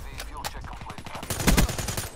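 Rapid gunfire in Black Ops 3 multiplayer, a fast burst of automatic shots building to a loud peak, close and punchy over background game sound.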